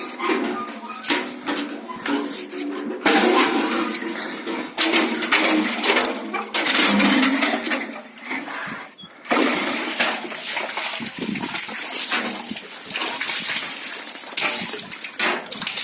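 Water is drawn from an old village shadoof well, with splashing, sloshing and clanking of the bucket and pole in uneven bursts, close and moderately loud, while someone speaks intermittently.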